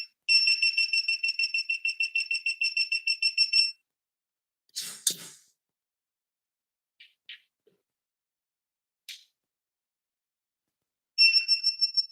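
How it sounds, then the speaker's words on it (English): Digital torque wrench giving a long run of rapid high-pitched beeps, then a few short clicks and taps, and a second beeping burst as the torque setting is reached during a tire and rim installation. "you'll hear that final red beep, and then I hit my torque setting"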